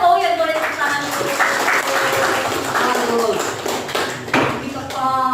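Students applaud in a classroom lesson on ecosystems, a brief burst of clapping mixed with chatter and voices, fairly close and loud, with talking continuing over and after it.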